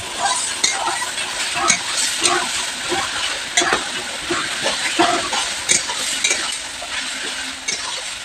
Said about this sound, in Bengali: মশলাটা আমি এখন কষাচ্ছি